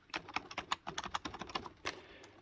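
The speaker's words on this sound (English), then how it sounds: "typing feels okay." Typing on a cheap £15 B&M gaming keyboard: a quick run of crisp, close plastic key clicks in an uneven rhythm, moderately loud with no talk.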